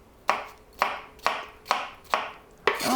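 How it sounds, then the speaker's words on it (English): A knife chops Persian cucumbers on a cutting board in a home kitchen, six crisp, evenly spaced cuts about half a second apart, close and clear with no talking. "Chopping cucumbers just fills the whole kitchen with this fresh scent of cucumbers."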